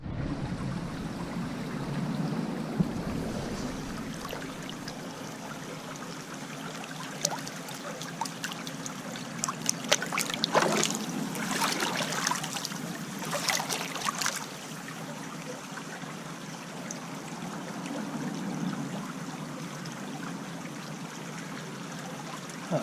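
Water swished hard during magnet fishing, a continuous trickling, splashing wash with bursts of sharper sloshing in the middle, nearby and moderately loud.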